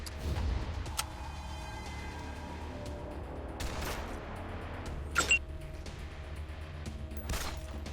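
Gunfire in the video game Wasteland 2: a few scattered, fairly quiet shots and bursts spaced a couple of seconds apart over a low background hum.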